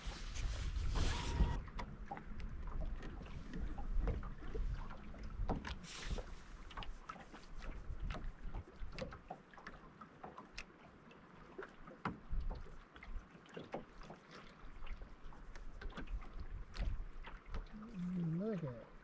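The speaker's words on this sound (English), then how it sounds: "this wind is miserable" Cold, gusty wind on a fishing boat on Lake Talquin, steady rushing roar buffeting the microphone with intermittent knocks and rustles, loud and close, with no talking.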